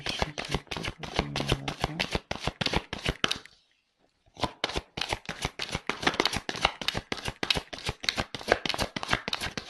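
Tarot cards shuffled by hand for a reading, a rapid run of crisp riffling flicks, close and fairly loud, broken by a short pause midway before the shuffling resumes.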